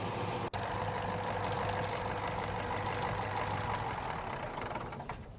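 A Versatile tractor engine runs in the Farming Simulator 19 video game, a steady, even mid-pitched drone with one brief dropout near the start before it fades slightly at the end.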